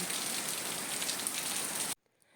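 Heavy rain hisses and patters steadily on a surface, then cuts off abruptly near the end, leaving near silence.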